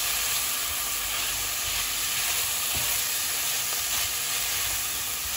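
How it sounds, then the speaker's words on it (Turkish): Spices roasting in a hot pot give off a steady, close sizzle and hiss with no break, broken by faint stirring scrapes. "Şimdi bu baharatları kavurun."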